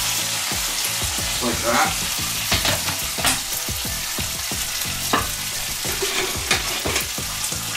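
Bacon and onion frying in a pan give a continuous crackling sizzle with stirring scrapes, while a person talks briefly over the cooking.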